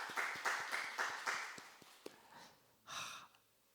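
Congregation applauding in a church during a Wednesday service, a short round of scattered claps that fades after a couple of seconds, followed by a brief breathy sound.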